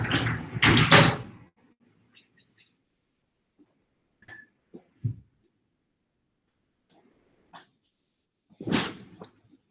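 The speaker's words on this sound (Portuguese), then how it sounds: "Eu vou só ter que fechar a porta aqui, 1 minuto, que o vento está forte." A door is pushed shut against strong wind, with loud gusty rushing and rattling at the start, scattered knocks and thuds in between, and another burst of wind-blown noise near the end.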